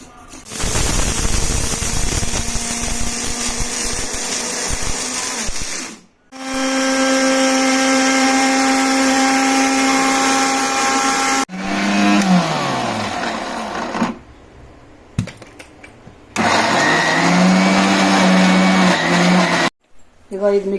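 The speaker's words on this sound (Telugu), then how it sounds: "ఇప్పుడు అది 2 మిక్సీకి వేసుకోవాలండి. మిక్సీకి వేసుకొని చూపిస్తాను." A kitchen mixer grinder grinds beetroot for beetroot vadiyalu. Loud, close whirring comes in several long bursts, broken by short stops where the motor cuts out and restarts.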